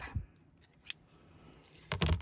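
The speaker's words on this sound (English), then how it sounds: "I should be able to do this in one swipe and just go snip" Scissors close on a paper strip in one quick swipe for a background and edge stencil, giving a brief crisp snip near the end after a few faint handling clicks, close and fairly quiet with no talking.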